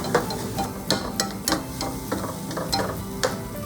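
Chicken frying in a pan with olive oil, a close, steady sizzle broken by repeated clinks and scrapes of a utensil stirring and turning the pieces.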